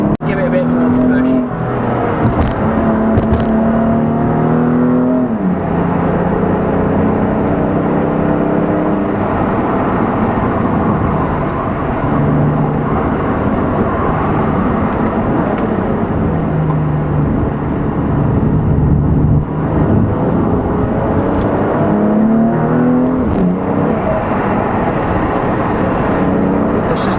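A 2018 BMW M3 CS drives hard to warm its tyres, its engine loud and close as it climbs through the revs in rising sweeps, drops back and pulls again, with the gearchanges clearly heard.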